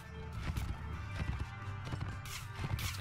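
Hooves pounding as a horse gallops in the Mount and Blade Warband game, a quick uneven series of muffled thuds under faint background battle noise, fairly soft.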